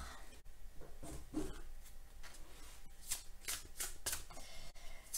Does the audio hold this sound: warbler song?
no